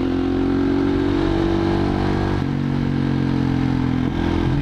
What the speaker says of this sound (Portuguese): Olha o barulhinho da moto, que é gostoso.